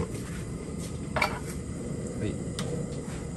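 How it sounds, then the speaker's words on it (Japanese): Chicken-breast shumai sizzle softly in a hot pan over high heat, a quiet steady hiss with a couple of light clinks. "ちょっとジューって音してくるでしょ"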